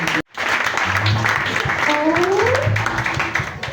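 A church congregation applauds to acclaim the Lord, a steady wash of clapping that fills nearly the whole stretch, with voices and a sustained tone running beneath it.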